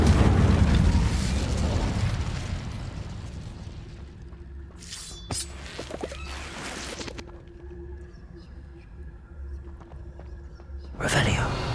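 Incendio fire spell cast in Hogwarts Legacy, a loud roaring burst of flame at the start that slowly dies away into quiet ambience, with brief crackles midway and another flare at the end; a voice speaks.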